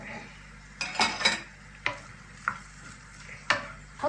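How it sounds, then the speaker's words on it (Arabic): Fried potatoes with onions and hot peppers being sautéed in a pan: a soft sizzle under repeated scraping and stirring knocks of a utensil against the pan, close by, with no talking. "يتشوح برضو مع البطاطس والبصل اهو"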